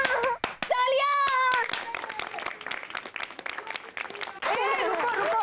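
Bursts of clapping hands mixed with children's excited voices and chatter, the clapping fairly close and uneven, stopping and restarting.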